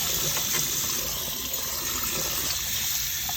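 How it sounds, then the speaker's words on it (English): Tap water gushing steadily into a sink while pot roast meat is rinsed, a constant close splashing flow with no breaks and no talk. "so rinse the meat off"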